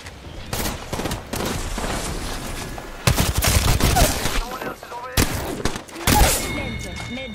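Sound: gunfire in a shooter video game

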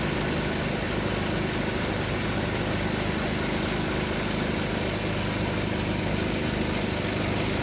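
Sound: tugboat engine pushing a coal pontoon to the jetty

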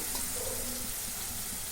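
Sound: pouring water into the pan

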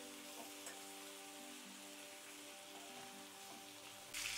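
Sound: green chillies sautéing in a pan

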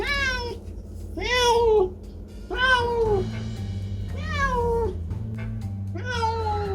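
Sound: cat meowing

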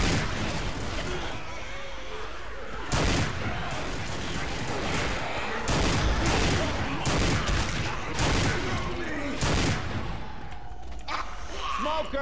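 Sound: gunfire in video game Left 4 Dead 2

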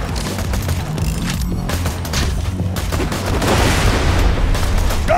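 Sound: gunfire in the video game Borderlands 2

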